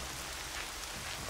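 Steady rain falls in the video game Horizon Zero Dawn, a dense, even hiss of drops hitting the ground that runs without a break at a moderate level.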